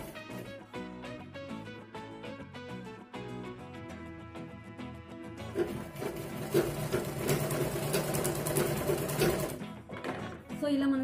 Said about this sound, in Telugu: సో మనం ఇట్లా రివర్స్లో ఫోల్డింగ్ చేసుకొని సో ఈ స్ట్రైట్గా స్టిచ్చింగ్ అనేది చేసుకోవాలి